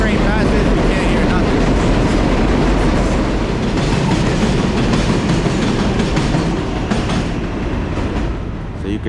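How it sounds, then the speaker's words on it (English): A New York 7 subway train passes loudly and close in Queens, a steady heavy roar of wheels and rail clatter filling the whole stretch and easing slightly near the end. "7 trains coming through. It sounds mad loud."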